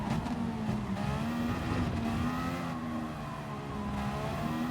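A car in Gran Turismo Sport, part of the Nürburgring, holds a steady, rising engine drone as boost kicks in, a continuous sustained whine at moderate distance with no talking.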